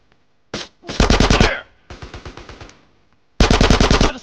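Automatic gunfire in the video game GTA San Andreas comes in three loud, rapid bursts of shots close up, separated by brief gaps, with no talking.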